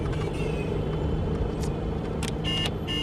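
A taxi car driving fast, a steady broadband engine and road rumble running throughout with faint higher hiss bursts near the end, no talk over it.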